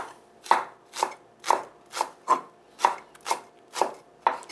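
A knife slices green onion diagonally on a cutting board in nine crisp, evenly spaced strokes, each cut a close, sharp thud that fades quickly, with no talking.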